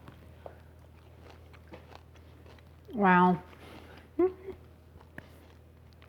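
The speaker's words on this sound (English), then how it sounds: "You may be able to hear the crunch in the microphone." Soft crunching bites of crispy baked low-carb onion rings, a few faint crackly chews close to the microphone, interrupted by a short spoken exclamation.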